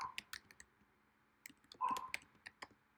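Computer keyboard typing while a server name is entered for a Fiery print server: scattered key clicks in short bursts with pauses, close and fairly quiet, no talking.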